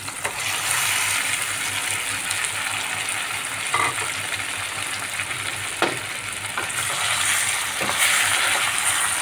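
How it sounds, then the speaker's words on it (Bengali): Marinated chicken frying in a pan with spices and tomatoes cooked down to a soft mush. It gives a steady close hiss and sizzle throughout, broken by occasional scraping clicks as it is stirred. "এখন এর মধ্যে আমি ম্যারিনেট করে রাখি চিকেনটি দিয়ে দিচ্ছি"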